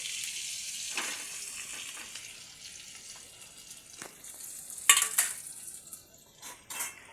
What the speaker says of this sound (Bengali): দিয়ে এবার এটাকে একটু ভালো করে ভেজে নিতে হবে